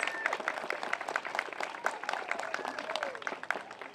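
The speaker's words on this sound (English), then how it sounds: "Can we give them a round of applause, all your teachers?" Children and adults at a school playground ribbon cutting clap for their teachers, a lively mix of quick claps and scattered cheering voices, fairly close and sustained before slowly tapering.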